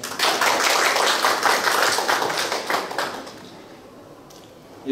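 Audience at a printing culture industry development forum in Daejeon applauds for guests, a full burst of clapping for about three seconds that tapers and dies away.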